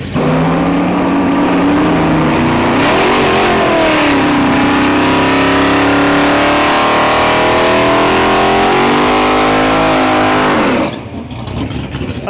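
A drag racing car launches down the strip at Santa Pod during a nostalgia drag event, its engine roaring loud and close with rising, shifting pitch for about ten seconds before cutting abruptly to quieter crowd and ambient noise.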